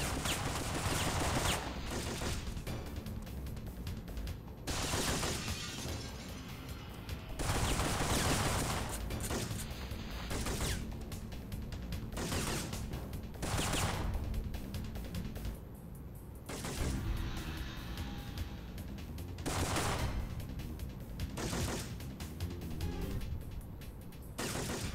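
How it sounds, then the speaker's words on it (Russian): Gunfire in the Syphon Filter video game: loud, repeated volleys of shots that come and go in heavy bursts across a long firefight. "Так, откуда стреляют?"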